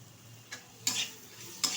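Taro stems being stir-fried with ground red chilli paste, salt and tomato, a soft sizzle under a few sharp scraping stirs of a spoon against the pan, close and without talk.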